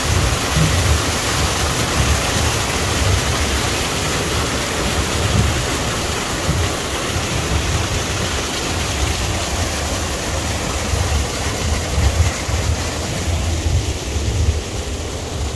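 A water-wheel mill on a river in the Santa Catarina interior, its scoops tipping and spilling water in a steady, loud continuous rush of splashing and pouring, with no talk over it.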